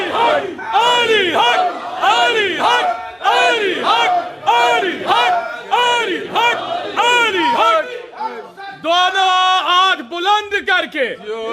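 Large crowd at a Shaban religious celebration loudly chanting the Nara-e-Haidari slogan, rhythmic call-and-response shouts in rising, repeated bursts close by, filling the space throughout.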